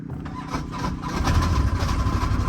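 A side-by-side UTV engine cranks and catches, then settles into a rough, rumbling idle close by.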